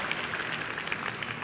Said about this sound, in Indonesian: Tepuk tangan untuk kemuliaan Tuhan Bapak Ibu.